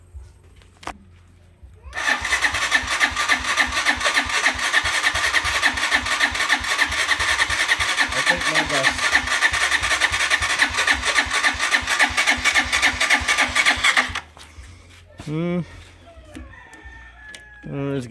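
A Mitsubishi Pajero with a 4M40 engine, left unused for several months, cranks and catches, then runs with a loud, steady rattling idle for about twelve seconds before cutting off. A rooster crows nearby afterward.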